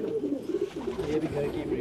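Home-bred colourful fancy pigeons coo in low, throaty, rolling phrases, close and continuous, with someone speaking over them.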